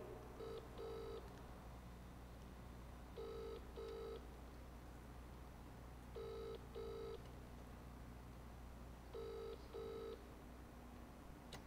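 A telephone rings down the line as a radio-play sound effect: paired electronic rings repeat four times at an even pace, fairly faint over a low background hum, with no voices.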